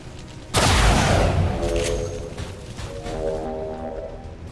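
A sudden loud burst of gunfire in XCOM 2 erupts and rolls on, followed by a sustained rattling volley and trailing echoes that fade but stay busy to the end.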